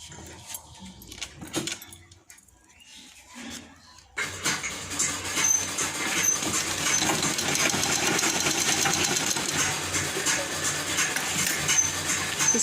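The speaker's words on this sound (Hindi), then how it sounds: "मैं इस पर सिलाई चलाऊँगी।" A sewing machine runs steadily while stitching a fancy-neck blouse along marked design lines, a continuous close mechanical whir that starts abruptly after a few seconds of quieter handling noises and holds at an even level.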